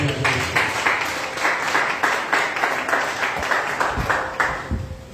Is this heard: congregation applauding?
yes